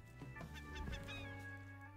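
A seagull in the survival video game Raft gives a short, honking squawk up close. The harsh, harmonic bird call lasts about a second and is heard alone.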